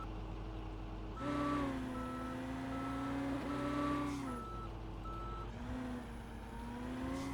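Snow plow truck in a video game turning around, with a steady engine hum and a repeating high reversing beep that carries on alongside it the whole time, loud and near.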